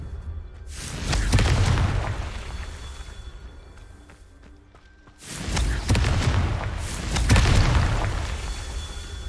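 Confringo blasting spells in Hogwarts Legacy, two loud fiery booms each swelling and rumbling for a few seconds, separated by a quieter gap, with no talk over them.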